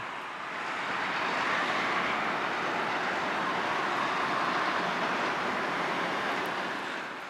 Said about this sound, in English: 161 is now leaving the building with the N-Class locomotive in tow.